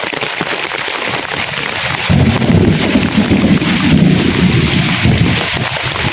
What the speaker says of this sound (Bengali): এরকম স্পিডে বৃষ্টি হইতেছে সাদা দবদবা দেখা যায়